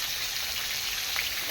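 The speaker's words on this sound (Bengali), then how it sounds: "তেলাপিয়া মাছ ভাজা হচ্ছে" Tilapia fish fries in hot oil in a home kitchen, a steady dense sizzle and crackle holding evenly throughout at close range, with no voices.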